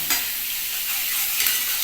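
Ridge gourd frying in hot oil while being stirred, a dense continuous sizzle with stirring, close and fairly loud, no voices.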